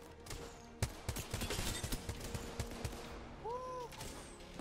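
Gunfire in the Apex Legends battle royale game, with a rapid string of sharp shots and bursts at close range, then a sweeping electronic tone near the end, all in a busy game mix.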